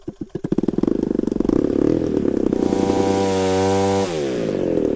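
A small two-stroke paramotor engine bought from AliExpress sputters through several rapid pulls and catches, then settles into a loud, steady buzzing roar that rises in pitch before dipping briefly near the end.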